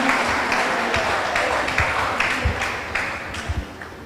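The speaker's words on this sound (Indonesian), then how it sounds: "kita berikan tepuk tangan sekali lagi" Applause from an audience at a university psychology faculty graduation send-off, scattered claps blending into a steady patter that gradually thins toward the end.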